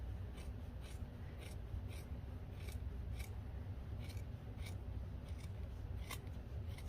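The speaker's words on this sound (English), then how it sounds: "You can go ahead and trim this seam." Scissors trim a fabric seam up close, with a quick series of light, crisp snips repeating roughly every half second over a soft background hiss.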